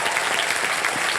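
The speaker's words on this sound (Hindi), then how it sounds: "जोरदार तालियां बैंड के लिए।" A studio audience on a TV game show claps loudly for a band, a short dense burst of applause close by.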